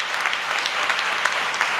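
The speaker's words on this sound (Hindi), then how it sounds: "पूरा सदन ताली बजा के बताए" A women's assembly fills the hall with steady applause, many hands clapping together in a continuous, even patter.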